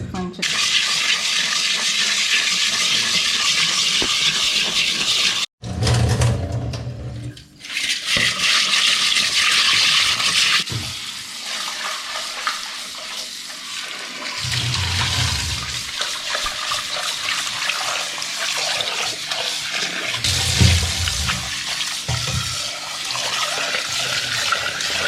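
A snakehead fish is rubbed with rock salt inside a clay pot, producing wet, gritty scrubbing and sloshing in repeated bursts, with a brief pause near the start and fairly loud, close rasping throughout.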